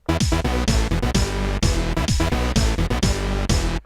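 A Casio Trackformer keyboard plays its first preset sequence, a loud, steady electronic pattern of synth bass, chords and drum hits repeating in a tight rhythm.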